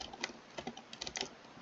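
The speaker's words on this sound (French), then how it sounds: "Alors désolé pour le bruit du clavier." Computer keyboard typing while playing Minecraft, quiet, irregular clusters of sharp key clicks close by with short gaps between bursts.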